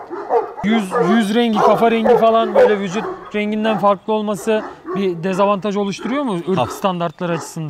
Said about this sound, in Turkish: Şu an gelen köpek Garip isimli köpeğimiz.